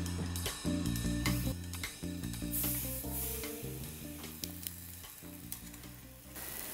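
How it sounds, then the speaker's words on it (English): Lamb pieces sear in a hot pan on the stove with a steady sizzle under prominent background music, a few sharper crackles and spatters poking through. "I'm just going to take these over to the stove and sear them."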